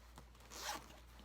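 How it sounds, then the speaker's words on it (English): A zipper on a travel pouch from a carry-on backpack is pulled in one quick, close stroke, a bright rasping zip with no talking. "So let me show you this zip right here."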